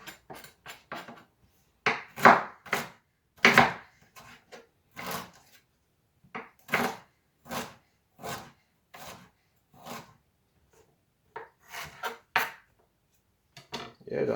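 A knife finely chops ginger in irregular bursts of close, crisp cutting strokes separated by short pauses, with no talking.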